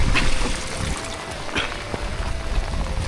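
Rainwater sloshing and splashing in irregular scoops as it is bailed out of a small boat, with dripping and trickling between, close by and fairly steady throughout.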